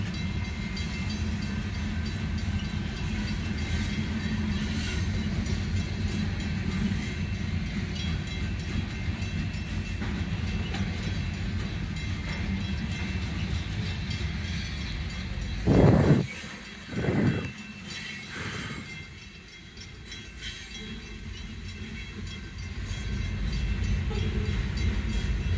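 Union Pacific 8680 inbound manifest freight train rolling past a road crossing, a steady low rumble of railcars heard from a truck cab, with a couple of brief louder bumps near the end as the train slows.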